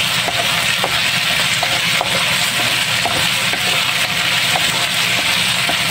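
Sweet potato tops and sardines sautéing in a hot pan sizzle continuously, with faint scrapes and clicks of stirring.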